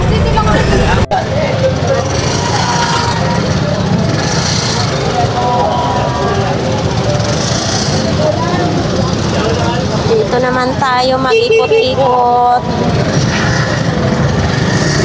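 Busy street traffic at Divisoria market in Manila, a dense rumble of engines and vehicles with horn-like tones near the end, continuous and loud while a person talks over it.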